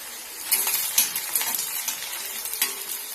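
Shallots stirred as they fry in coconut oil in a pan for a Kerala crab curry, a soft steady sizzle with scraping spoon strokes and light clinks at a close, moderate level, with no talking.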